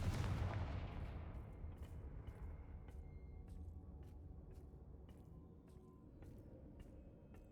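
Confringo fire spell blast in the Hogwarts Legacy video game, a loud booming explosion that rolls into a long rumbling decay, with faint rhythmic taps behind it.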